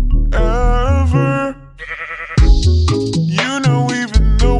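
A sheep bleats loudly and close in a series of wavering, tonal cries, with a short quieter gap in the middle before the bleating resumes strongly.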